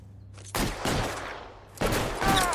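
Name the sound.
shotgun fire in video game L.A. Noire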